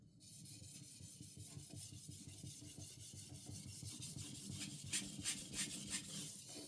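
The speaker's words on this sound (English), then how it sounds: "A few passes on a 1K stone was enough to raise a burr." A budget Indonesian kitchen knife is drawn across a 1K whetstone in steady, close rasping strokes, with a few sharper, louder passes near the end.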